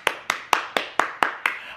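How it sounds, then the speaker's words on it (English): Seven sharp, evenly spaced hand claps ring out in a steady beat, about four per second, close and crisp with no talking. "Give yourself a round of applause."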